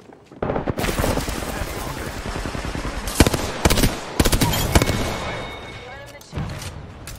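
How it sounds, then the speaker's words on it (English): Rapid automatic gunfire in the battle royale shooter Apex Legends, loud and dense bursts with sharp single shots and short pauses, heavy and close throughout, with a voice talking over parts of it. "I'm getting shot at"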